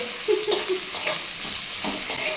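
Chopped vegetables dropped into hot oil with tempered spices, giving a close sizzle with several sharp stirring scrapes and knocks of a spatula in an uneven rhythm.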